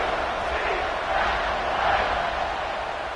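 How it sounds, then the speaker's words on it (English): A football stadium crowd buzzes after a long touchdown run at an NCAA game, a steady, dense roar of many voices that swells and holds through the whole stretch without breaks. "this crowd is buzzing after that last score."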